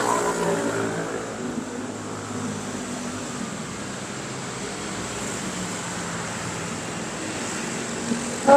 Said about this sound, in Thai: ดูรถวิ่งไปมา รถค่อนข้างเยอะนะ